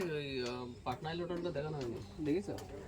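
Pigeons cooing at a breeder's loft, several soft rolling coos in quick succession, close, with a voice talking over them.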